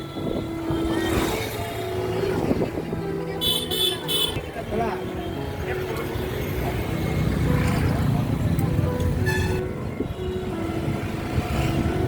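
An auto-rickshaw rolls through Agartala traffic with a constant engine and road rumble. Horns honk in short bursts, one cluster near the start and another later, while a voice talks throughout.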